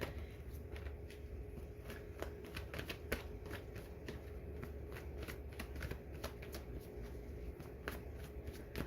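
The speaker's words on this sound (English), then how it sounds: "Let me pull an extra card on that Strength for the other person." Tarot cards are shuffled and drawn by hand at close range, giving a steady run of soft riffling clicks and slaps against a low background hum, with no talking.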